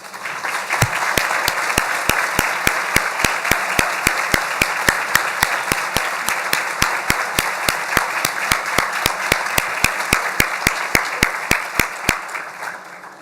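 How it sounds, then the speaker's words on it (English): An audience at a children's partnership breakfast claps for military service members standing in the room, a sustained, even round of applause punctuated by a regular series of sharp, loud claps close by. "Just feels good to clap, doesn't it?"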